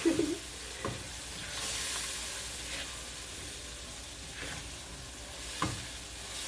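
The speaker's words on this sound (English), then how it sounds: "So we're going to saute." Eggplant sauce ingredients sizzle steadily in a hot frying pan, with a continuous hiss and occasional scraping stirs of a utensil against the pan.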